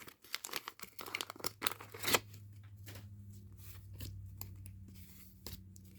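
Quiet crinkling, rustling and tearing come from trading card stickers and wrappers being handled from a repacked wax box of Fleer cards, in a busy cluster of crackles that thins into sparser, softer rustles.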